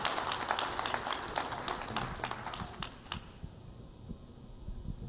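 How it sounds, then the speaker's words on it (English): A conference audience applauds after a plenary talk: scattered, fairly quiet hand claps that thin out after about three seconds into sparse single claps. "Let's give Paul Davies a round of applause for a fantastic talk."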